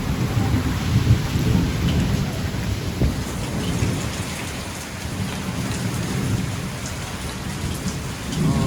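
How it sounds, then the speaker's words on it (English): Steady heavy rain, blowing slightly sideways, pours down, a dense wash of hiss and patter with low rumbling beneath, constant and close throughout. "the rain's coming in a little bit sideways"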